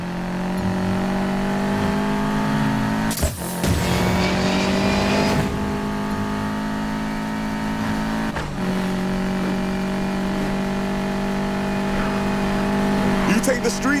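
Racing cars in Need for Speed Payback drone with a steady, loud engine roar as they accelerate and rev, with a couple of sharp whooshing passes along the way.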